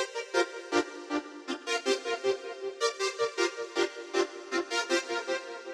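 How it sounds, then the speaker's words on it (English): A Solina string synth on a short, stabby patch plays a quick melody in parallel fourths, with steady clipped chord stabs running throughout and a tape echo adding an 80s flavor. The part is moderately quiet with no voices. "For this I used a Solina patch called Short and Stabby."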